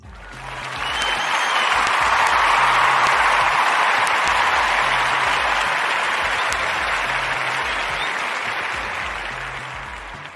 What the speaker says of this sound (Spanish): ya saben que nos damos nuestro merecido aplauso